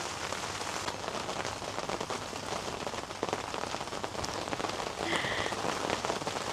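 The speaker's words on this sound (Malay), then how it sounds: "Asal camping je hujan." Steady rain pattering on a camping tent pitched in an orchard garden, a dense continuous hiss of drops with a few brief louder taps, close and alone without voices.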